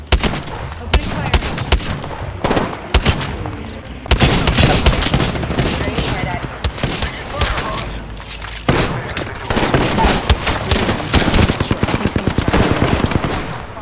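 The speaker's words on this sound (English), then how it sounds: "Opening fire." Rapid bursts of automatic gunfire in the video game Apex Legends, loud and close, firing in repeated volleys with short gaps and booming impacts throughout.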